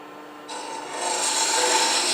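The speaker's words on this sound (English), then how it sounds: "take a 3/8 inch spindle gouge and just turn a bead" A 3/8 inch spindle gouge cuts a bead on spinning wood on a lathe, a steady close scraping hiss that starts abruptly and grows slightly louder and rougher.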